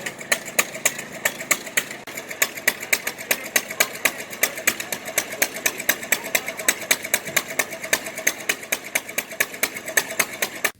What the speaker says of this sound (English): That's a small hit and miss engine